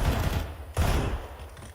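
Gunfire in a CS:GO esports match, two sharp close shots each followed by a short rumbling tail, punching out over a low ambient bed.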